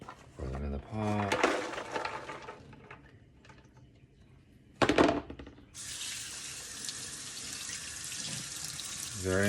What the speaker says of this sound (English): Very important to rinse them off.